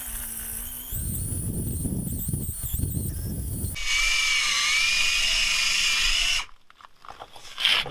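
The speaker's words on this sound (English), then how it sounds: "let the drill do the work" A power drill bores through the metal of a 2004 Honda Odyssey front brake assembly. It grinds steadily and fairly loud for several seconds, shifting to a higher whine partway through, then stops abruptly into quieter clatter.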